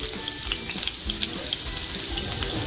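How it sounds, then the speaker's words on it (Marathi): Garlic hisses and crackles in hot oil for a tempering, a close continuous frying sizzle with scattered sharp pops and spits throughout. "तेल छान तापलंय, लसूण टाकते फोडणीला"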